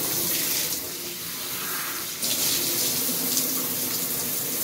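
Water runs steadily from a tap while dyed orange-red hair is rinsed, a continuous close hiss and splash that shifts slightly in tone partway through.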